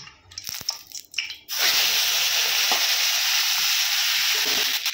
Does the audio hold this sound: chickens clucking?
no